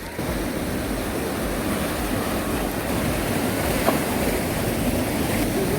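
Steady rushing surf of East Sea waves breaking on a rocky shoreline, a continuous broad wash heard close with no talking.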